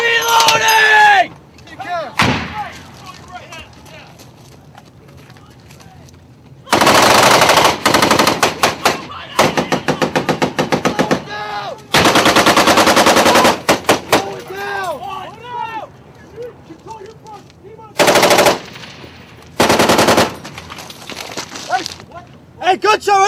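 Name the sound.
gunfire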